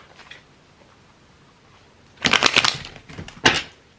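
Tarot cards are shuffled close by in two quick riffling bursts after a near-silent stretch, with no talking.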